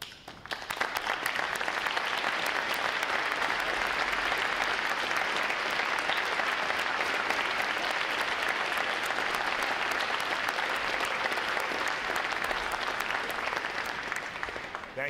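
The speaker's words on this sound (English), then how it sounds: "Will all our veterans please stand so we can give you a round of applause." Sustained, dense applause from a large crowd honoring veterans at a U.S. Navy recruit training graduation ceremony, a steady wash of clapping that swells in quickly and holds evenly for the whole stretch before easing slightly at the close.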